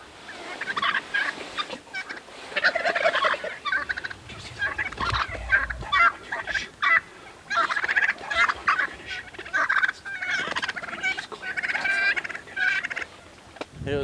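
A group of wild turkeys gobbling outdoors on a spring hunt, repeated loud rattling gobbles overlapping from several birds at close range, coming in bursts across the whole stretch with no talk.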